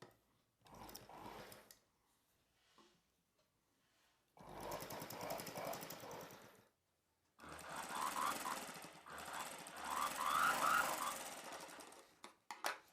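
A sewing machine stitches the lining of a silk saree blouse in three runs of fast, buzzing mechanical whirring, separated by short pauses, the last run the longest and loudest.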